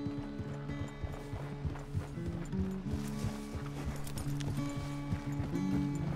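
Horse hooves clip-clop in Red Dead Redemption 2, a steady, rhythmic trot of close, hollow knocks continuing throughout with a low ambient hum beneath.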